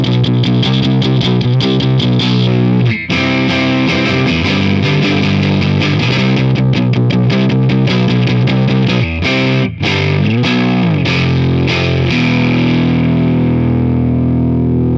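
Heavily distorted Fender Vintera II Road Worn electric guitar through a Marshall amplifier, playing loud, continuous chord riffs with a thick, saturated amp tone, a couple of brief breaks, ringing out at the end.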